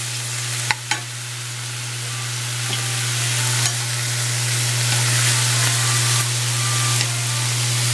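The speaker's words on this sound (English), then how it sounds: "the main thing you want to do is cook your veggies" Vegetables cook in a hot pan with a continuous sizzle that slowly grows louder, a couple of sharp clacks near the start and a steady low hum beneath.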